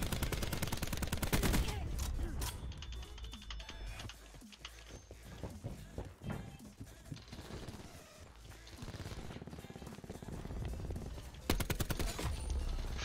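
A cluster grenade going off in a shooter video game, a burst of rapid overlapping blasts and crackling gunfire, loud and dense, with a few brief louder bursts near the start and end.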